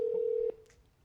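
A single steady telephone dialing tone from a phone on speakerphone for a prank call, holding for about half a second before cutting off into quiet line noise.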